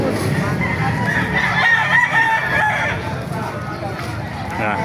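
Roosters crow repeatedly amid clucking chickens at a busy fowl market in Baliuag, Bulacan, with crowd chatter and voices underneath throughout.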